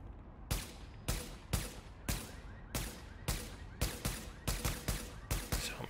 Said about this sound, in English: Here's the weapon firing.